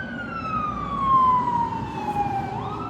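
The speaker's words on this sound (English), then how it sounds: "That was a fire truck just went by." A fire truck siren wails past, a loud, steady descending tone that slides lower as the vehicle goes by, with traffic rumble underneath and a brief rise near the end.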